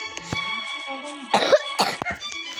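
A couple of coughs break through steady background noise, close to the microphone, with a brief throat-clearing sound among them, over Roblox game play.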